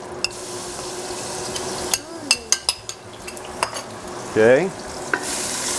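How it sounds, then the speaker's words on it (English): Garlic fries in a hot pan while making lasagna, with a soft sizzle under sharp clinks and scrapes of a utensil stirring against the pan and a brief wet burst; one short spoken word is heard. "We get that garlic frying."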